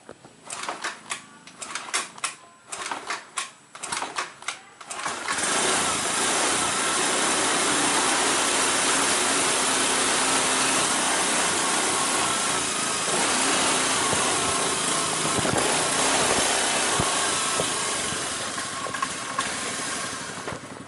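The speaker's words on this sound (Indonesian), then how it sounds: "kita hidupkan motornya dulu" Honda Beat ESP scooter, whose electrical system has failed, starts up after a few seconds of clattering and then idles steadily with a constant hissy engine drone to the end.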